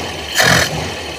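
A Toyota Corolla DX carburetor engine idles, then gives a brief rev that swells and eases back to a steady idle, heard close up.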